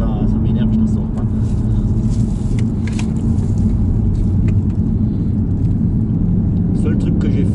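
A car with upgraded ventilated brake discs drives flat out on a road, its engine a steady, heavy low roar that fills the cabin without letup, with faint voices now and then.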